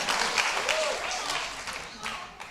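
A church congregation claps and applauds in a steady, dense wash of hands that continues throughout at moderate loudness, with a voice speaking over the crowd noise.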